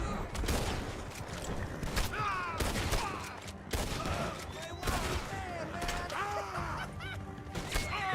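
Red Dead Redemption 2 gameplay with bursts of gunfire, rapid shots and cracks over a busy, loud game soundscape, mixed with ringing whooshes and crashes, and a voice talking over the action.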